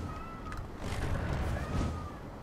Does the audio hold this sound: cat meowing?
yes